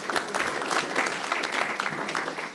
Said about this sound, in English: Why don't you give yourselves a large round of applause?